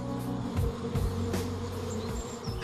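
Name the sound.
honey bees buzzing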